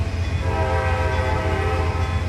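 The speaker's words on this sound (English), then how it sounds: "Look at that automatic whistle." Automatic train whistle sounding at a road intersection in the Trainz 2022 railway simulator, a steady, loud, sustained multi-tone horn over the low rumble of the moving train, continuous for the whole stretch with no talking.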